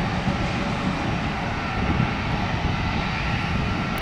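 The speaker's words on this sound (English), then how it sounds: "The Embraer with the giant engines." The engines of an Embraer jet airliner with large engines roar at an airport, a loud, steady, broad rumble that holds constant throughout with no voices.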